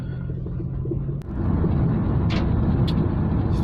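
A Honda S-MX on a test drive after brake work, with steady road and engine rumble throughout, a brief dip partway through, then continuous driving noise close to the cabin.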